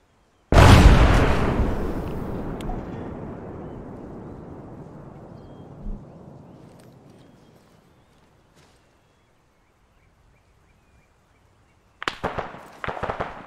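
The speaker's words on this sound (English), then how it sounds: "I think we've got an IED up here. I'm gonna touch this off." An IED detonates in Arma 3 with one loud, close blast that rolls into a long fading rumble over about seven seconds, followed by silence and then a cluster of sharp cracks like gunfire.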